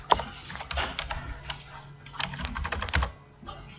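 Rapid keystrokes clatter on a computer keyboard during spreadsheet data entry, in uneven bursts with short pauses, close and clear with no speech.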